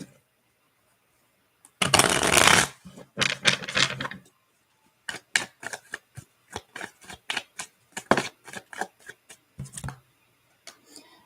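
Tarot cards being shuffled by hand, starting with a longer riffling burst followed by quick, crisp clusters of card snaps and taps in an irregular rhythm, close and alone in a quiet room.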